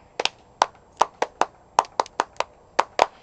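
Hands clap in a playful rhythmic routine, about a dozen sharp, close claps spaced unevenly, some in quick pairs, with no talk between them.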